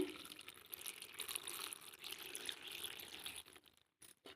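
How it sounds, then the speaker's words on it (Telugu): Water is poured into a cooking pot holding onion, tomatoes and turmeric for masala gongura, a steady splashing pour that runs for about three and a half seconds before tapering off, with no talking. "వాటర్ పోసేయాలి."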